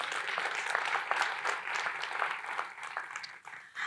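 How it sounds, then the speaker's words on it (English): Applause fills a gala dinner hall, a steady wash of many hands clapping at moderate distance, swelling and fading slightly over a few seconds without any voices on top. "Can we give ourselves a round of applause?"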